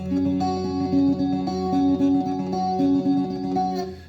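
A quick, steady finger-picked guitar pattern from a song, played with thumb and first finger, plucked notes rolling continuously over a sustained bass, slightly washed with chorus-like shimmer.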